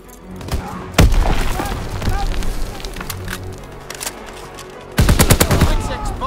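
Anti-aircraft fire in Call of Duty WWII, with loud bursts of rapid automatic shots and heavy thuds over a dense battle din, and a voice talking partway through.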